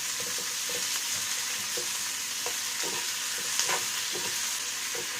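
Chopped onion and tomato sizzle steadily in a pan for a gravy, with intermittent stirring scrapes over a constant, moderately loud fry and no talking.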